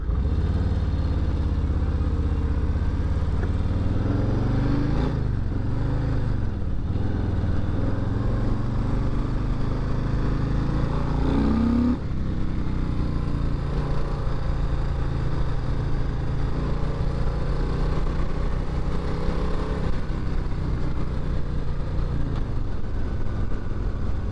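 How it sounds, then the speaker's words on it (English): Harley-Davidson Low Rider S cruiser motorcycle being ridden, a steady, continuous low engine rumble with heavy wind and road roar throughout, the pitch shifting briefly as the rider changes speed. "I have to concentrate a lot more on this because I've never ridden like a big cruiser like this"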